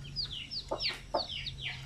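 Native chickens at a poultry coop give several short clucks and squawks, close and clear over a low background hum.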